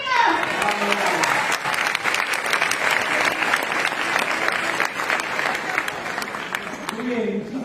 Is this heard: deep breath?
no